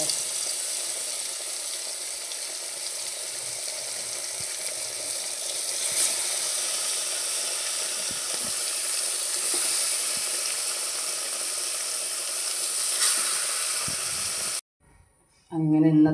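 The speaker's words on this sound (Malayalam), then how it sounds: "മീൻ പൊരിക്കാൻ പോകട്ടെ." Fish frying in oil in a home kitchen gives a continuous, even sizzle with soft crackles for about fourteen seconds, then a brief drop-out and a short louder stretch at the end.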